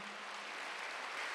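A church congregation applauding during a Wednesday worship service, a steady, even wash of clapping from many hands filling the hall for over a second, moderately distant with no voices over it.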